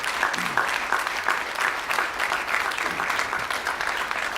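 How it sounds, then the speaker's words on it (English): An audience applauds at an industry and partner day event on an asteroid initiative, with steady, dense clapping that carries on evenly throughout. "Let's give these guys a round of applause"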